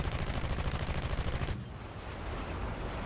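Rapid machine-gun fire from a Pe-8 bomber's guns in the War Thunder combat game: a loud, dense burst of continuous shots that cuts off abruptly, leaving steady engine drone with no talking.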